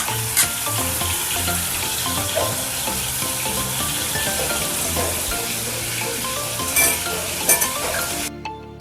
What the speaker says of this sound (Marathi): मी त्याच्यात आलं लसूणची पेस्ट टाकणार आहे आमटीसाठी